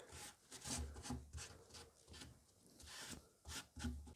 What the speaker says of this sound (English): I'm just going to again take the damp towel and give it a quick rub.